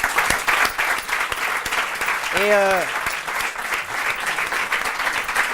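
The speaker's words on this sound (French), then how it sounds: "qu'on peut applaudir bien fort." Strong, steady audience applause fills a French television talent-show studio, a dense wash of clapping under a brief spoken word and a short rising sung or tonal note.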